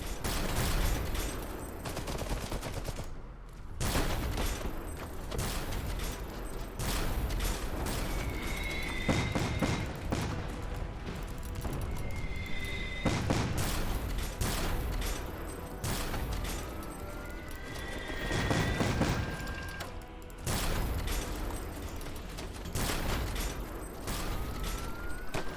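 Mortar fire and explosions from the real-time strategy game Iron Harvest, with repeated broadband booms and bursts of gunfire layered over a dense, continuous battle din and occasional whistling tones.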